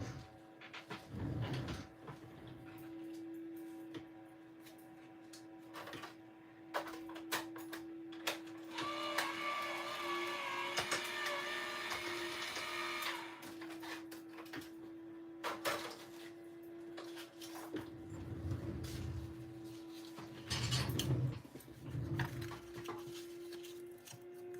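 A die-cutting machine runs card-stamping dies through with a steady motor whir and a rising mechanical grind in the middle, framed by clunks and handling noises, and no speech.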